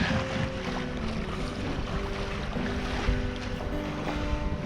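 Sailboat under wind alone with the engine off, sliding steadily through waves while a self-steering gear holds the tiller; a continuous rushing wash of water and wind, moderately loud and unbroken, with no talk.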